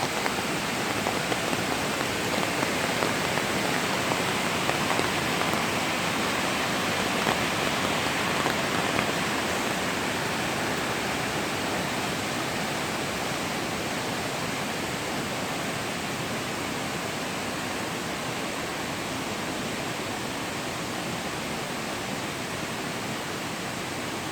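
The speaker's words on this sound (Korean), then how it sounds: "비 오는 거 보이세요?" Rain pours steadily at a waterfall at a prayer site on Jirisan, a dense, even hiss of water that runs unbroken and loud throughout, with no voices over it.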